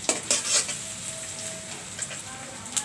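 Onions fry in mustard oil in a kadai with a quiet, steady sizzle, broken by a few bright clinks and scrapes of a utensil against the metal pan.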